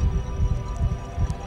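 Slow, steady heartbeat of a character in the Call of Cthulhu video game, low thumping pulses repeating about every 0.4 seconds over a constant hum, close and alone.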